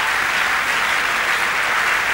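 A church congregation applauds and cheers for Jesus during a French-language worship service, a steady, dense wash of clapping held at one even level throughout, with no voice rising above it.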